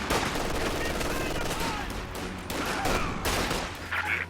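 Anti-infantry machine gun strafing in a World War II strategy video game, dense loud bursts of rapid gunfire and explosions crowding the whole stretch, close and continuous.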